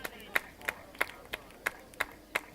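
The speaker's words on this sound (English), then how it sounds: "Give her a round of applause, everybody." Sparse, faint rhythmic hand claps from a small crowd at a track meet after a girls' steeplechase finish, about eight evenly spaced claps over a quiet background.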